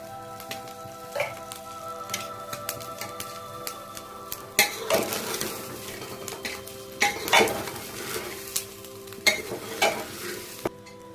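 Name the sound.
rice frying with carrots and beans in a pan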